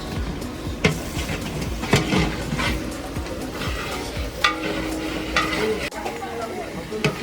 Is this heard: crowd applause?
no